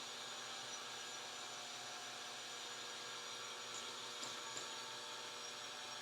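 An electric hand mixer whirs steadily through vanilla cupcake batter in a home kitchen, a constant motor drone with faint clinks partway through.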